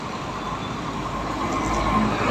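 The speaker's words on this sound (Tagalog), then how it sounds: "Maraming mga sasakyan. Kasi nga nandito tayo sa kalsada" Road traffic on a city street beside skyway construction, a steady low rumble of many passing vehicles heard while walking along the roadside.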